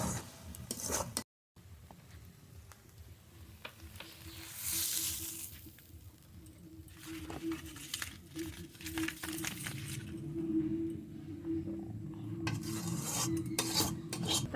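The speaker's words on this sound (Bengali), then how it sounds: "এবার আর একটু নেড়ে নামিয়ে নেব খোলসে মাছ দিয়ে ধুন্দল রান্না হয়ে গেছে" Stirring a curry of khalse fish and ridge gourd in a pot, with scraping, rasping strokes of a utensil recurring over a faint sizzle and some background noise.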